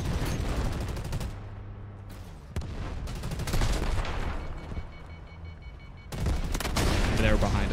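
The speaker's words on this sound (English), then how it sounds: "Artillery ready for barrage." Artillery barrage and gunfire in Delta Force: Hawk Ops, heavy booming impacts and rapid shots layered over one another, with sudden loud bursts, brief lulls and renewed blasts, close and intense.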